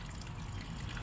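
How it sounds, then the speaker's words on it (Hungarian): Warm water runs from a pipe, gushing in a steady, dense rush with no breaks, fairly loud and close. "Meleg a víz, ami jön."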